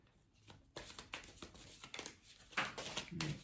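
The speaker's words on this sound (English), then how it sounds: "Let me shuffle these really good." Angel therapy oracle cards being shuffled by hand, a close run of soft papery riffles and slaps with crinkling bursts, a few sharper flicks near the end.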